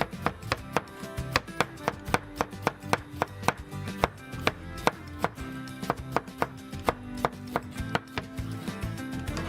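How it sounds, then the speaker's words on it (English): A knife chops a small onion on a board while Turkish red lentil soup is prepared. Crisp, steady strikes fall quickly and evenly, close and loud, with no talking. "Chopping first, starting onion."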